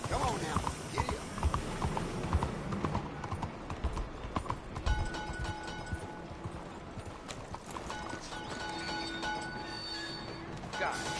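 Horse hooves clip-clopping at a steady galloping rhythm in the Red Dead Redemption 2 video game, close and continuous, with a voice talking over the ride and occasional clatter and background effects.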